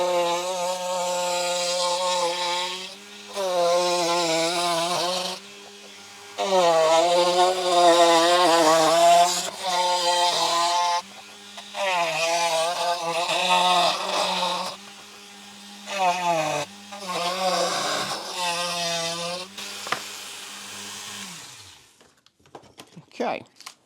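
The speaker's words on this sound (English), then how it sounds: "now I'm going to use a Dremel with a little cutting disc to just cut this out" A Dremel rotary tool fitted with a small cutting disc whines at high pitch in repeated bursts, revving up, dipping as it bites into the workpiece and cutting out between passes, close and loud.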